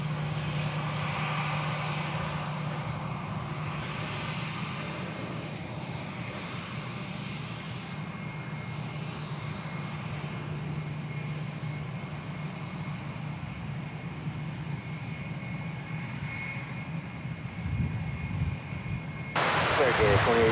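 Boeing 747 airliner (American, 1974) taxiing slowly at DFW Airport, a steady broad jet-engine rumble and whine held throughout, with a voice speaking over it.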